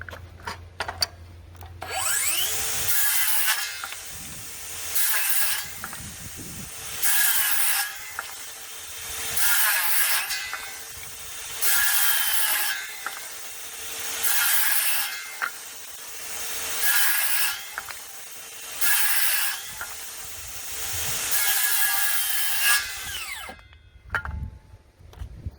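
Kobalt XTR and Ryobi brushless circular saws cutting wood in turn: repeated whining spin-ups, each rising into a loud ripping cut, then winding down, about nine cuts in a steady rhythm.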